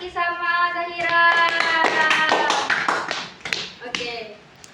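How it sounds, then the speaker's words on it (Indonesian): Clapping in a classroom, with a voice and sustained tones under a burst of quick, close hand claps that thin out into a few scattered taps near the end. "tepuk tangan buat Kak Kiki sama Zahira."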